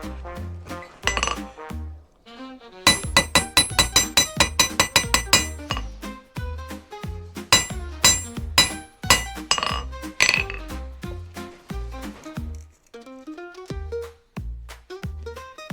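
Ringing metallic hammer strikes on hot steel while forging a slot punch, a rapid run of even blows followed by slower, irregular hits, close and loud.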